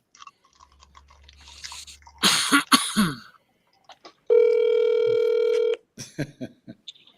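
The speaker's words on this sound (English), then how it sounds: "Siri, call Clyde Anderson" A Siri-placed phone call plays over a speaker with dial-tone beeps and a long sustained tone, mixed with short bursts of handling or clattering noise and brief clicks in an otherwise quiet room.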